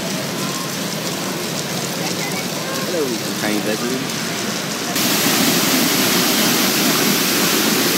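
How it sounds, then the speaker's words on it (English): Steady, dense roar of rushing water from a big waterfall in Bali, loud and continuous, close by; a voice briefly calls out over it partway through. "Hello, waterfalls! Hey, that's a big waterfall."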